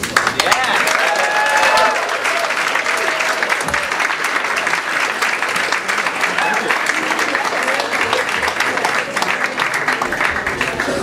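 Audience applause after a Pecha Kucha talk about the game of Go, sustained loud clapping from a crowd with some voices and whoops mixed in.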